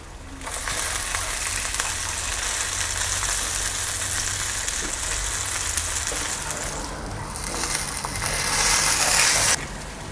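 Steady, dense sizzling of salmon frying skin-side down in a hot pan, continuous crackle throughout, growing slightly louder near the end.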